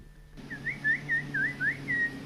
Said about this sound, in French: c'est un sifflement pas très fort